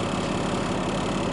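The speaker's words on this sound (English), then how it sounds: "We've got the that old cat engine's running, folks, and it's quiet as it can be." A 455-horsepower Caterpillar engine in a 1999 Beaver Patriot Thunder motorhome idles with a steady, even low rumble, heard close and alone.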